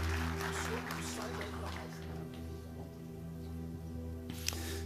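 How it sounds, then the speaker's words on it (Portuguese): A church congregation claps for Jesus during a Pentecostal service, dense steady applause filling the room alongside an organ or keyboard drone, fading slightly toward the end. "os que podem, tomem o seu assento aplaudindo a Jesus"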